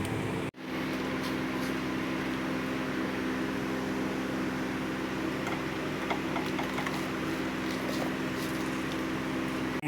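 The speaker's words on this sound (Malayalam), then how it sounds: "നമ്മൾ മിക്സിയിൽ അടിക്കാൻ പോവാണ്." An electric kitchen mixer grinder blends grated coconut with a little water. It gives a steady, continuous motor whir with a low hum. The sound runs unbroken after a brief cut at the start, with no talking.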